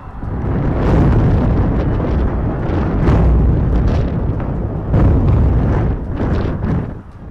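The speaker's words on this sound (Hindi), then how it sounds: "ईरानी सूबे अल-बोर्ज और करमानशाह में भी धमाके सुने गए।" Loud, heavy explosions heard in Iranian provinces during Israeli strikes, several deep rumbling booms rolling one into another with wind buffeting the microphone and no voices.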